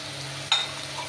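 Spice paste of Kashmiri chili, cumin and coriander frying in a pan, a soft steady sizzle with one brief scrape of stirring, short and close.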